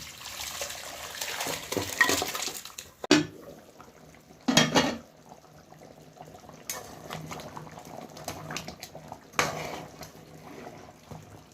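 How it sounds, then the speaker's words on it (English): Jamaican beef curry simmering down to gravy in a pot, a soft continuous bubbling and sizzle broken by a few louder clanks and scrapes of utensils against the pot. "the beef a bubble down there"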